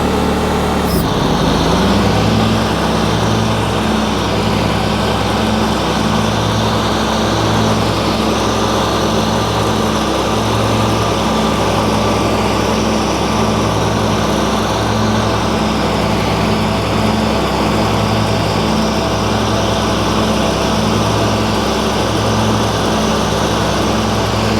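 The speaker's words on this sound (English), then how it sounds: "Now I'm going to keep it in low gear, but I'm going to mow with it." Simplicity Legacy riding lawn mower running in low gear with the mower deck engaged, a loud, steady engine drone with a pulsing low throb from the spinning blades, continuous and close throughout after a brief click at the start.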